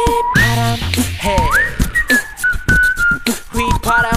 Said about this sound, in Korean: 휘파람 해.